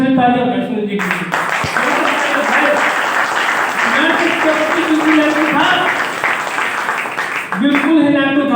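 An audience breaks into sustained, dense applause for Sunil ji, running loud and steady for several seconds, with a voice speaking briefly just before and after.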